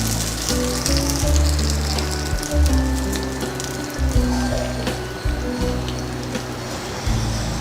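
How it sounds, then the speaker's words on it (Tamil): Mustard seeds, cumin and fenugreek sizzling in hot cooking oil for a Tamil-style bottle gourd kootu tempering, a steady crackling hiss over low kitchen rumble, fairly loud and continuous. "கொஞ்சம் குக்கிங் ஆயில் விட்டு கடுகு, ஜீரகம், வெந்தயம் எல்லாம் போட்டு தாளிச்சிருக்கேன்"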